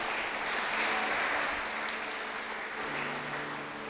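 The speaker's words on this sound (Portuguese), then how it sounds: "Pode aplaudir Jesus." Worshippers in a church applaud together, a sustained even clapping that swells slightly early and then holds steady, with no speech over it.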